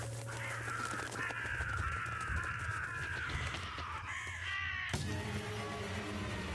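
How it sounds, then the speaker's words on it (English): Crows caw in the horror video game True Fear: Forsaken Souls, several harsh calls repeating over a low steady ambient drone with no talking. "Okay, angry crows."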